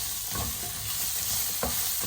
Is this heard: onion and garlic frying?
yes